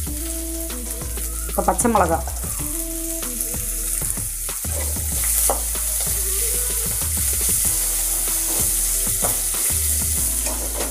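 Grated ginger and green chilies fry in a pan with a steady hiss and repeated stirring scrapes, continuing throughout while a person speaks briefly over the cooking.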